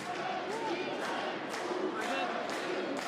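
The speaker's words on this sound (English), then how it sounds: "fans in the stand below making their noise heard" Ukraine supporters in a stadium stand at an under-19 European Championship football match against Norway, a steady roar of chanting and rhythmic crowd noise swelling every half second.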